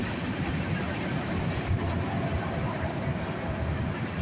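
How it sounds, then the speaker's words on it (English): The tail end of a CSX northbound mixed freight train rolls past on the rails, a loud, continuous broadband rumble and clatter close by with no pauses. "there goes the end of our northbound mixed freight train"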